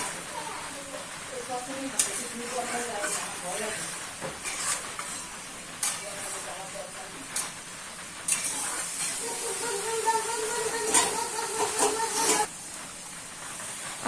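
Fried pointed gourd pieces go into a hot pan for a wedding-style pointed gourd and prawn curry, giving a steady close sizzle and hiss with brief louder spatters and stirring scrapes throughout.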